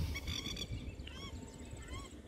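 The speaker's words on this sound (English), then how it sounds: "The paradise ducks." Paradise ducks give short honking calls at a distance on a country farm, a few quick calls over faint background sound.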